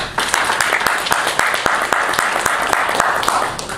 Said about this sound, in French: C'est sous vos applaudissements que nous donnons maintenant la parole